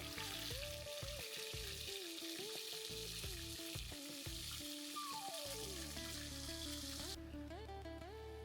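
Mutton hitting hot oil with whole garam masala and browned onions for a Bengali meat curry, giving a loud, steady sizzle and crackle that fills the whole stretch, with a clink of stirring partway through.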